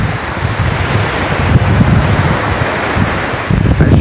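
Sea waves wash against the shore of Perhentian Island, Malaysia, in a loud, continuous surf roar with heavy wind buffeting the microphone.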